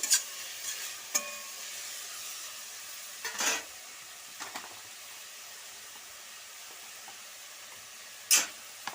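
Gobi manchurian is stirred in a pan with garam masala, spices and sauces, giving a soft steady sizzle broken by several sharp scraping stirs of a spoon against the pan, with no talking.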